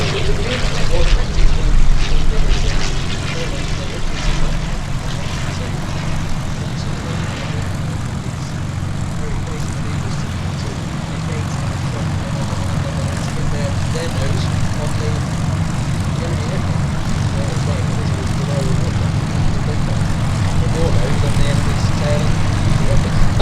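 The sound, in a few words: Fokker WWI aircraft engine flying at an airshow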